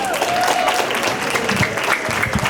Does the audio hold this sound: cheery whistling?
no